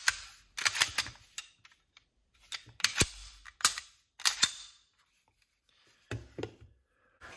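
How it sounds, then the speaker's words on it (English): A Sig P320 pistol is handled close up with a series of sharp metallic clicks and clacks as the magazine is removed and the slide is locked back, scattered in short bursts with pauses. "Take the mag out, lock the slide back, check the chamber, and it is empty."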